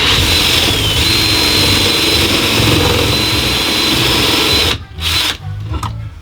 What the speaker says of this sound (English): then I can just drill them out and it should be fine in theory